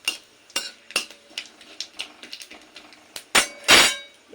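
Bay leaves and cumin seeds hitting a little hot white oil for a Bengali mango chutney, with a series of sharp metallic clinks of a spoon against the pan and short sizzling bursts, louder toward the end.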